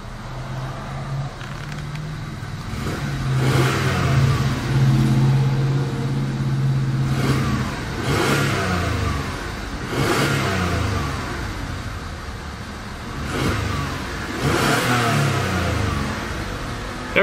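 A 1990 Toyota Camry LE V6 engine revs repeatedly, rising and falling in several smooth bursts from a steady idle, heard alone at moderate loudness.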